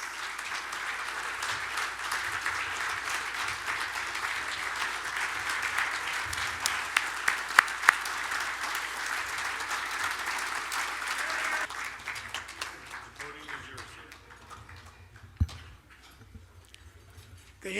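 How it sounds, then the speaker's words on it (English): Sustained applause from a sizable audience, steady clapping that fades and thins out toward the end. "Let's give him a round of applause as he comes."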